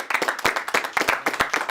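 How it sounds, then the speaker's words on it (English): Brief scattered clapping from a small group of debate participants, a few hands patting in quick uneven rhythm for under two seconds, close and moderately loud. "I think I almost heard a little bit of applause from Team 1"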